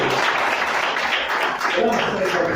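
A church congregation claps continuously in a dense, even wash of applause, with voices mixed in underneath.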